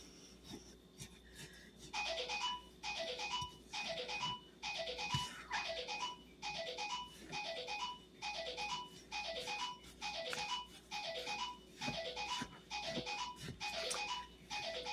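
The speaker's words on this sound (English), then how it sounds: "that's my phone going off in the other room" A phone rings from another room in a kitchen, a repeating electronic ringtone in regular bursts, faint and distant, with a soft stirring rasp nearby.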